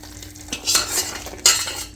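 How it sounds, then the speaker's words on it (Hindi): A spoon stirs syrup into a thick coconut barfi mixture in a pan, giving a few close scraping and clinking strokes with soft sticky movement between them; short and moderately loud, no talking. "इसको मिक्स कर देते हैं अच्छे से।"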